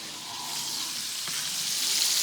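Steady crackling sizzle of burgers frying in hot bacon grease, close and continuous, with a faint clink partway through.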